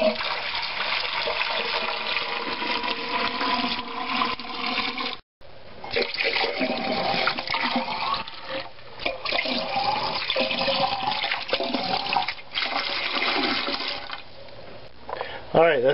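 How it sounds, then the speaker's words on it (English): Water pours steadily into a canner around partly filled jars, a continuous splashing wash that runs nearly unbroken with one brief gap, with faint talk beneath it. "more water, filling up some of the jars part of the way,"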